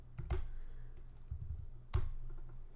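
A computer keyboard is typed on in a web browser with a few close, quiet clicks and short bursts of keystrokes, irregular and sparse, in a quiet room.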